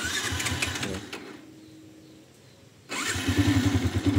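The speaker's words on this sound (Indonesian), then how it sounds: "Ini double starter masih jreng." A 2014 Yamaha Vixion motorcycle engine runs loud and close with a steady idle pulse. It drops to a quiet lull midway, then restarts with a sharp onset and keeps idling with a rhythmic throb.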